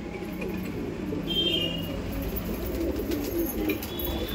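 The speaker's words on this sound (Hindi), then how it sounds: "प्योर सहारनपुरी कबूतर, बेहतरीन क्वालिटी का कबूतर है सारे सहारनपुरी" Paired pure Saharanpuri pigeons coo in soft, low rolling calls against a steady background hum, with a faint higher chirp now and then and no talking.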